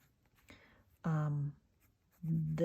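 A Lamy fountain pen with a steel medium nib writes in wet-flowing tourmaline ink, giving a few short, faint scratchy strokes separated by quiet pauses.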